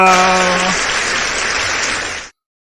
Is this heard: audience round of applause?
yes